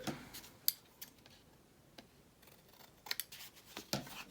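Scissors trim a paper tag in a few quiet, sparse snips, with soft handling rustles between cuts in an otherwise hushed room.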